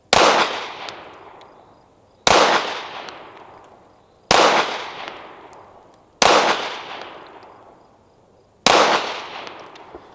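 Slow, deliberate pistol fire from a Smith & Wesson M&P 2.0 Metal at a 7-yard range: five loud, sharp shots spaced about two seconds apart, each followed by a ringing decay, with no voices.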